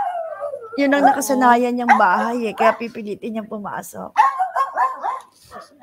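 A dog howls and barks insistently while trying to get back into its familiar house, the yowling cries rising and breaking close by, with a person talking over it.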